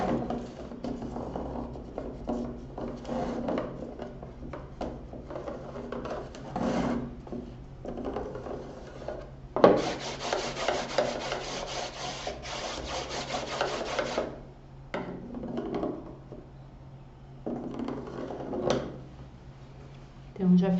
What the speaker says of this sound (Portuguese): vou com a minha dobradeira passando bem nos cantinhos aqui.